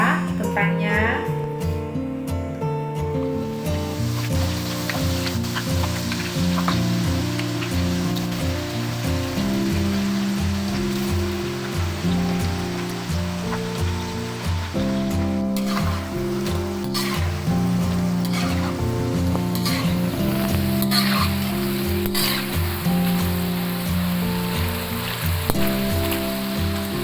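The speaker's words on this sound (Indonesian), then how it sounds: "Baiklah, kita goreng dulu ya kentangnya." Potato pieces frying in hot oil give a constant crackling sizzle that runs for the whole stretch, heard under steady background music with no voices.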